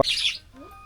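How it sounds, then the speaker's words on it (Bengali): A bird gives a single sharp, brief squawk overhead at a small farm homestead on a river char in Bangladesh. A fainter chirp follows in the quiet. "পাখি ডাকছে"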